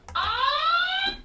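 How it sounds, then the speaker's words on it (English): A rising electronic red alert whoop from the 2022 Playmates USS Enterprise toy sounds once, clear and close, lasting about a second. "Red alert, obviously."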